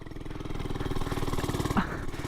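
An FRP GMB100 mini bike engine revs steadily at racing speed, a buzzy, continuous small-engine drone that holds close and loud throughout with a brief surge near the end.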